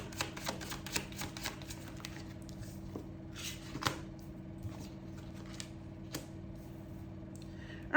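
Tarot cards shuffled by hand during a reading, giving soft, scattered riffles and taps at an irregular pace, faint and close with no talk over them.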